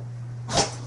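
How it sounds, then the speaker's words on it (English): One brief, close sneeze from a dog: a single sharp puff of air breaking a quiet indoor hum, with nothing else around it. "Oh, you sneezed again. Bless you."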